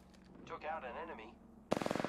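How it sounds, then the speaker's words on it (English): Machine gun fire in Apex Legends opens abruptly near the end as a rapid, loud, evenly spaced burst of shots, following a stretch of in-game voice chatter. "I am taking fire, friends."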